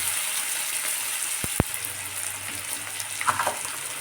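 Grated ginger stirred in a hot frying pan for a new-potato curry: an even close sizzle with scraping spatula strokes and two sharp metallic taps near the middle, no voices.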